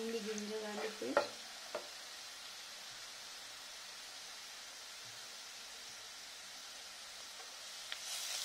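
Ginger garlic paste frying in a pan for Dhaba-style egg keema masala: a steady, soft sizzle throughout, with a few spoon clinks from stirring near the start.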